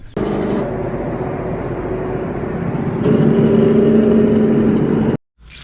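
A truck towing a trailer loaded with truck parts drives along with a loud, steady engine drone and road rumble, rising slightly partway through before cutting out abruptly near the end.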